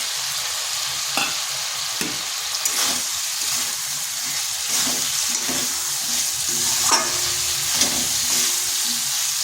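A tomato goes into spices frying in a pan for a vegetarian cabbage dish, giving a steady close sizzle broken by scattered scrapes and knocks of stirring.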